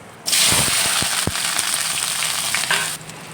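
Loud, close sizzling of onion, green chili, cinnamon and dried chili sautéing in hot oil, a steady crackling hiss with a few stirring knocks, starting and stopping abruptly.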